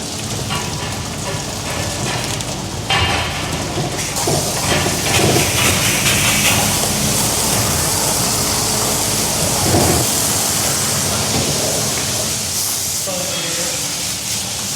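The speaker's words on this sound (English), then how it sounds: "now we wash down the side and the floor" A water hose sprays down the floor and sides of a dairy milking parlour after the cows leave, a continuous loud hiss and splatter lasting throughout with small shifts in intensity.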